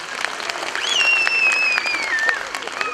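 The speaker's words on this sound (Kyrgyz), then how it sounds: "дайыр жол кол чаап койсоңуздар болот чыр балага." Applause from a concert audience for a child performer, steady and fairly loud throughout, with a high whistle-like tone gliding across the middle of the clapping.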